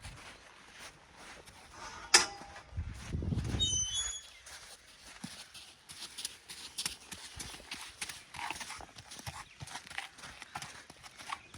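A horse walks close by on a firm surface, its hooves clip-clopping in an uneven steady rhythm, with a brief squeak, a low rumbling snort and quiet background movement.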